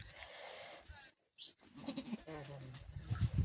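A goat bleating just after giving birth to a kid on a farm, a few short nearby bleats mixed with people talking close by.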